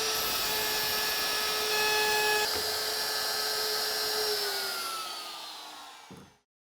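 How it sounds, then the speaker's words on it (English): A router cuts mortises in a wooden cabinet, a loud high-pitched whine that holds steady, then spins down and fades, ending with a brief knock before silence. "route both mortises in the cabinet"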